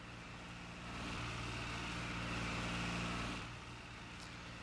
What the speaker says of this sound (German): Die Trecker sind das. Ich habe ja, ich habe den Sound von dem Trecker da drin.